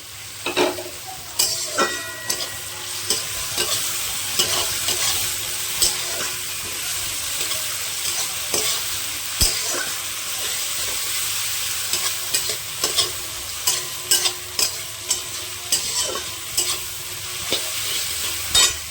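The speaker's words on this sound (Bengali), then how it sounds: "এটা একটু ভাজা ভাজা হতে থাক।" Onions frying in a pan with chopped green chili and tomato, a constant close sizzle broken by frequent scraping stirs and clacking spatula strokes, with no one speaking.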